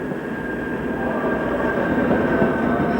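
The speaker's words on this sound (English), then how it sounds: "here comes a long-distance train" A long-distance train rumbles steadily into Berlin's main station in the early 1990s, with a broad roar and a faint high whine, close and loud.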